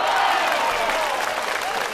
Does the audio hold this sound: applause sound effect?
yes